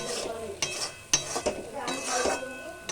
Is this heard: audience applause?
no